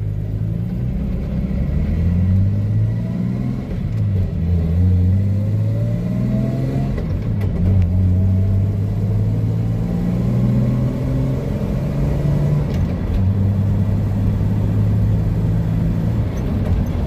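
A Jeep Comanche with replaced leaf springs and rear axle cruises on the highway, its engine a loud, steady low drone with gears rising and shifting, alongside constant road rumble heard from inside the cab.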